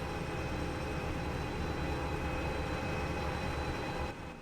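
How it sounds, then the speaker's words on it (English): A train rolls along in the video game Derail Valley, running backwards, giving a steady dense rumbling drone with faint tonal hum that dips briefly near the end, heard alone without talk. "I keep thinking that the train is behind us, but we're going backwards."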